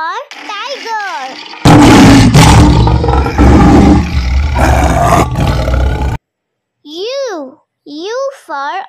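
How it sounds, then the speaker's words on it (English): A loud, rough tiger roar in a children's alphabet song lasts about four seconds. Sung, childlike voices come just before and after it. "T for tiger."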